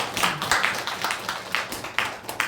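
Congregation clapping together in a church service to welcome guests, a steady dense patter of many hands close by, lasting a couple of seconds.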